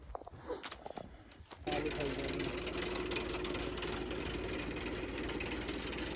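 A tractor engine starts up and settles into a steady, loud, close idle with a constant low rumble, after a brief stretch of clattering handling noises.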